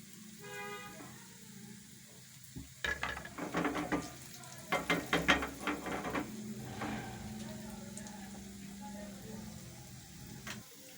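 Potato gola kababs (shaker kandi) frying in a pan give a soft continuous sizzle, broken by a run of clattering scrapes and knocks as they are turned, with a faint hum underneath.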